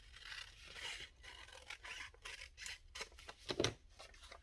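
Scissors snipping through paper to trim book page pockets, a series of quiet, close crisp cuts with a sharper final snip.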